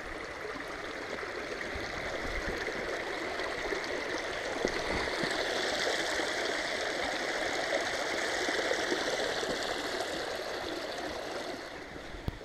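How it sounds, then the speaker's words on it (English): A running stream near a trailhead at Harriman State Park rushes and gurgles continuously, a steady, full wash of flowing water with no other sounds standing out. "right past the trailhead is a running stream"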